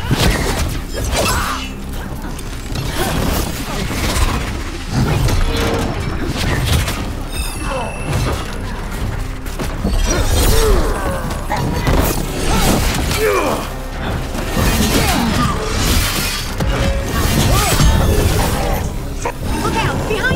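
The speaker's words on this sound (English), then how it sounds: "Watch yourself. They have Gatlock cannons." Gatlock cannons in Dragon Age: The Veilguard pound away in a chaotic fight, with a steady barrage of mechanical bursts, booms and smashing impacts under shouted character dialogue.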